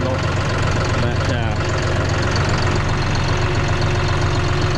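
A farm tractor idles with a Massey Ferguson mower attached. Its low, throbbing engine note runs steadily and close for the whole stretch.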